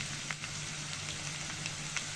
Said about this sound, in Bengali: এসব দিয়ে কাঁচা মশলাটা ভালো করে ভেজে নিব